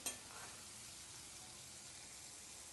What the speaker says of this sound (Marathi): कांदा आणि टोमॅटो चांगला शिजून घ्यायचा तेलामध्ये.